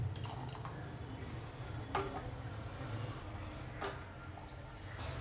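Cornflour slurry is poured little by little into simmering sweet corn soup, making a few soft liquid splashes and drips over a low, quiet background.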